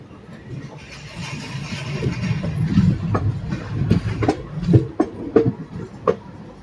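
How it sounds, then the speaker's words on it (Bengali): A local train arriving from the Howrah direction rumbles past with a steady low roar and rhythmic clickety-clack wheel beats that grow sharper toward the end, loud and close, with no talk. "একটি লোকাল ট্রেন আসছে হাওড়ার দিক থেকে।"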